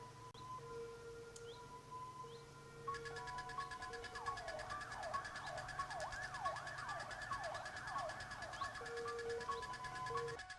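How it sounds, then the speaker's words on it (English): Wailing emergency sirens sweep up and down repeatedly in the distance, joined partway through by a second siren pattern, with no talking. "It should be pretty awesome with the sirens in the background"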